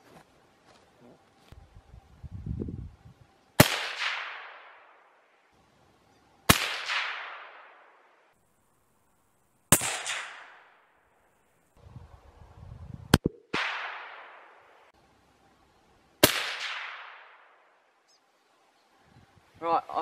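Five sharp, loud Tikka T3 rifle shots in .223 Remington at an outdoor 100 metre range, each a crisp crack with a decaying tail, spaced a few seconds apart, with low rustling between shots.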